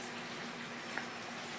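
A hydroponic pump bubbles oxygen into a water tank on a farm, a low, steady bubbling hiss with a faint constant hum beneath and one small splash partway through.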